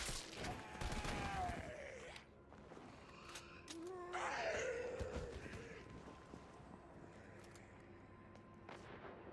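Assault rifle bursts in the video game Resident Evil 3 rattle out in a quick volley with in-game groans and clanks, set against a dense, noisy game soundscape.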